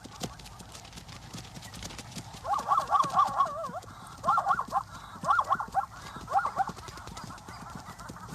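A stallion herding his band gives a few loud, rough calls in short bursts, over soft ambient noise and hoof sounds, with a narrator speaking.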